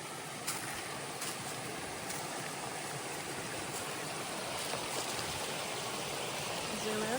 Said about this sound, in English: here's your waterfall of the day